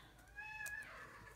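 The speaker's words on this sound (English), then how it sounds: "I don't know if you can hear my kitty cat crying." A single drawn-out cat meow, rising then falling, fairly clear against a quiet room background.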